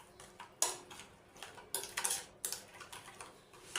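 Chicken pieces with a spoonful of soy sauce are stirred and tossed in a bowl, giving sparse, uneven clicks and taps of utensil on dish with quiet gaps between them.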